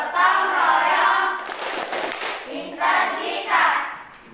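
A school class of young pupils claps in rhythm during a group chant, loud nearby hand claps mixed with children's voices chanting together in phrases.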